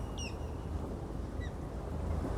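Two short, high-pitched raptor calls ring out about a second apart over a steady rumble of wind and distant noise.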